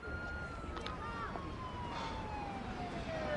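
An ambulance siren in a television legal drama scene: a faint, rising and falling wail carried over steady, noisy background traffic, with what may be a voice underneath.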